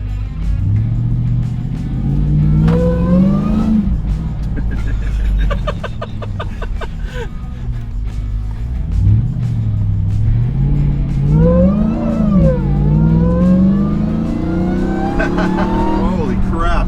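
Demon Hemi-powered Jeep Gladiator engine revving hard through its gears, a loud low rumble rising and falling, with someone talking over it throughout.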